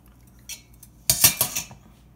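Pasta salad with steamed broccoli tossed in a bowl, a few quiet clinks followed by a cluster of louder scraping, clattering utensil-on-bowl knocks, close up.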